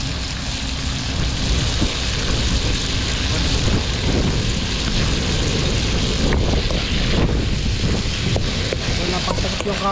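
Strong wind buffets the microphone in a steady, loud roar, with faint rattles and a few sharp knocks under it; no words are clearly heard.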